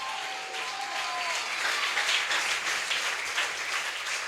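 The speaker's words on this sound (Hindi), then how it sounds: "जोरदार तालियां यीशु के जलाल के लिए बजाएंगे।" A crowd at a Wednesday church meeting breaks into hearty, continuous applause. Some tonal sound is mixed in at the start, and the clapping swells and holds steady throughout.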